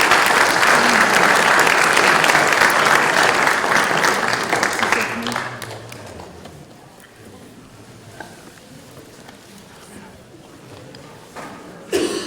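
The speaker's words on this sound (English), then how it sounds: "Big round of applause, ladies and gentlemen." Indoor audience at a wilderness event gives a loud sustained round of applause and cheering for Uncle Lem Ownby, which fades after about five seconds into scattered claps and crowd murmur.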